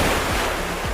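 Waves crashing at Crash Boat Beach in Aguadilla, Puerto Rico: a continuous, loud roar of surf with heavy low rumbling and repeated surges, steady throughout with no voices.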